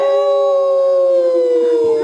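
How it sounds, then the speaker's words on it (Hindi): A long, eerie wavering howl, loud and steady with rich overtones, sounding like a spooky ghost effect that slowly fades at the end. "ये तो भूतनी की आवाज है।"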